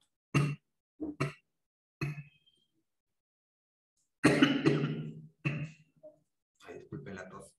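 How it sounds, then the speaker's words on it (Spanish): A woman coughs in several separate bursts while still recovering from illness, close and fairly quiet, with short gaps of silence between; brief speech follows near the end. "Ay, disculpen la tos."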